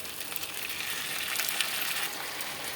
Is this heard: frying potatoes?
yes